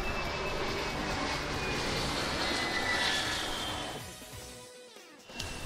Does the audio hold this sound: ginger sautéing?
no